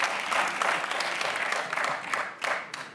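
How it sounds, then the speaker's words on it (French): Studio audience applause on a French Saturday-night television talk show, a steady dense clapping for about three seconds with a few louder swells, moderately loud and heard alone. "Ça s'applaudit."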